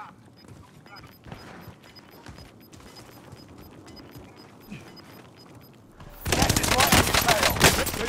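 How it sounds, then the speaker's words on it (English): Gunfire in an online battle-royale shooter: steady, faint background action gives way to a loud, dense burst of rapid automatic fire that keeps going to the end. "I'm under fire."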